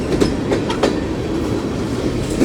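A Union Pacific mixed freight train of tank cars rolls past on the near track at Central Avenue, its wheels clattering in a loud, steady clickety-clack with sharp rail clicks repeating close by.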